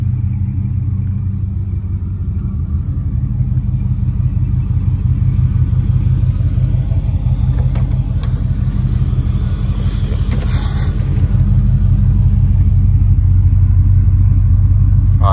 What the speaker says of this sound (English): I can get y'all a good rev up